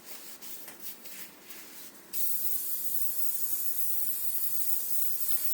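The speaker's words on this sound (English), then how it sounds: "Right, let's just spray that." An aerosol can sprays a finishing coat onto a piece of artwork: quiet rubbing and handling at first, then a steady, close, loud hiss that continues without break to the end.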